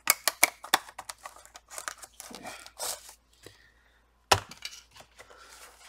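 The plastic side edges of a Dell Vostro 15 3000 series laptop cover snap into place, giving a string of sharp close clicks and creaks followed by one louder snap, with no speech.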